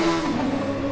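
A Formula racing car in a video game leaves the pits, its engine note droning and rising briefly, loud and near, with no voices over it.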